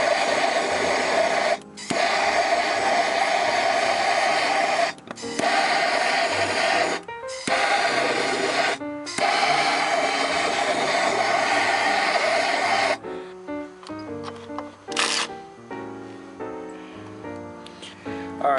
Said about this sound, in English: I'm going to grab a little torch and give it a zap of heat.